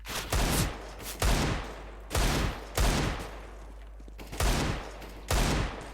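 Gunfire in a first-person shooter video game: several loud, sharp bursts of shots in quick clusters, separated by short quiet gaps, close and punchy with no talk over them.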